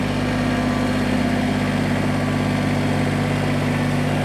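A Kubota BX23S compact tractor engine idling nearby, a steady droning hum with a constant low tone and even vibration throughout, alone without talk.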